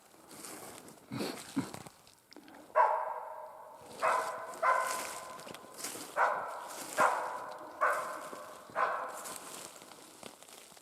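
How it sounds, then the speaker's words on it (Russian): A dog barks repeatedly outdoors in the taiga, a steady series of sharp, evenly spaced barks at moderate distance with no talking. "Первый лай собаки."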